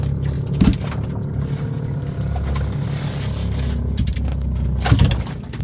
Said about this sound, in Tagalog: Lakas na makina.